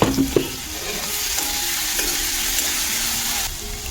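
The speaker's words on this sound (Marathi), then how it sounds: "आता कांदा हा लवकर भाजण्यासाठी आपण थोडं मीठ टाकायचं, म्हणजे कांदा लगेच भाजतो." Onion with a pinch of salt frying in a covered pan over a low flame, a soft, steady sizzle, close and continuous with a couple of light clinks at the start, no talking.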